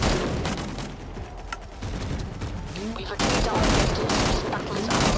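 Sniper rifle shots in the video game Angels Fall First, heard amid a busy stretch of gunfire, explosions and other battle noise, loud and continuous throughout.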